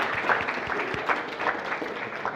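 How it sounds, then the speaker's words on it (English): Scattered applause from a mentorship program audience, a few distinct claps at a moderate level, fairly sparse and thin rather than a full crowd. "So a big round of applause for Sarmad"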